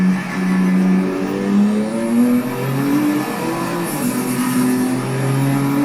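A Porsche 962C racing car engine in Assetto Corsa drones and revs loudly around the Nordschleife, its pitch climbing and dropping through gear changes without a break.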